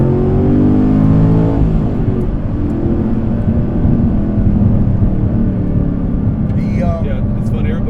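A 2015 Chevrolet Camaro Z28 roars loudly from onboard as it accelerates on a race track, its deep engine note climbing steadily through the revs without a break.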